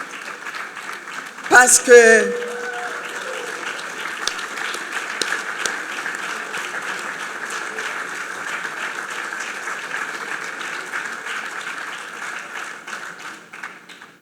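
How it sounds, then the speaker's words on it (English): Audience applause for the Belgian guests at a 30th-anniversary event, sustained, broad and steady clapping that follows a brief spoken phrase at the start and continues evenly to the end. "Levez-vous, on va vous applaudir"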